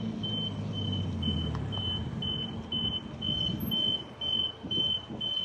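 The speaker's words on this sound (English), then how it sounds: "That's gonna be loud, that beep." Vehicle reversing alarm beeping in a steady regular series of about a dozen short high tones, moderately loud over rumbling street traffic and engine noise.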